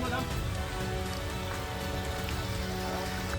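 Steady rain patters on a surface at Sudhagad Fort, a dense, even hiss of drops with a faint low hum underneath.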